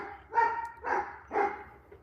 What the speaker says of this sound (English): All the dogs barking.